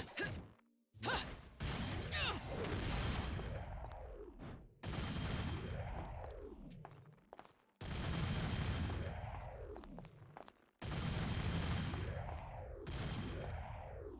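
Bayonetta's Bullet Climax in the game Bayonetta 2, dense sustained bursts of rapid gunfire, each running a few seconds with a swooping, wavering whoosh underneath, separated by brief breaks, loud and close.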